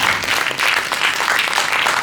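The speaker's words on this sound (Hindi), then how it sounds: "जोरदार तालियां कलाकारों के लिए।" Theatre audience in Lucknow clapping for the actors after a stage play, a loud, sustained burst of applause with slight swells.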